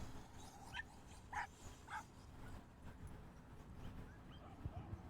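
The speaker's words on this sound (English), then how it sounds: "Look at all those doggos go." Dogs at a dog park give a few faint, distant yips and barks over a low outdoor rumble, with brief scattered thumps and no clear talking.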